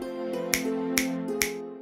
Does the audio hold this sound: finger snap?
yes